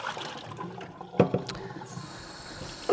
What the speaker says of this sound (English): I'm just going over to the sink now and I'll just rinse that out